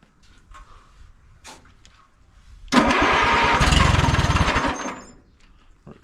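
An Allis-Chalmers B tractor engine, its carburetor drained of fuel, cranks and fires after a few quiet clicks, then roars loudly and roughly for about two seconds before dying back down.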